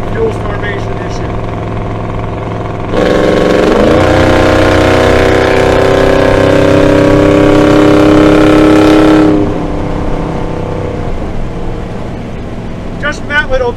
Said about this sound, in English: I'll do a wide open throttle from cruise